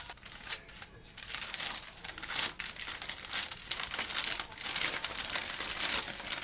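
Baking paper is crinkled and rustled continuously while a chocolate roulade is rolled up, with crisp, close crackling throughout.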